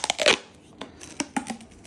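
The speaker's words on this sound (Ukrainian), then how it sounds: "І кріпимо на От такий надміцний скотч." Extra-strong adhesive tape torn from a roll while fitting a LiFePO4 battery pack, a sharp ripping burst followed by several short crackling pulls and snaps, close and dry with no talk.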